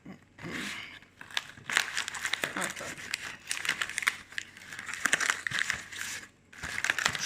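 A plastic snack packet of individually wrapped strawberry mini cakes is worked open by a single hand. It crinkles and crackles in irregular bursts with short pauses between, close and moderately quiet.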